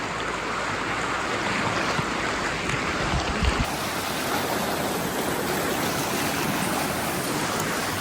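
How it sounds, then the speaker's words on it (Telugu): A hot river at the La Fortuna hot springs in Costa Rica rushes in a dense, continuous roar, close and steady, with no voices. "ఫుల్ కాలే నీళ్ళు వస్తున్నాయి"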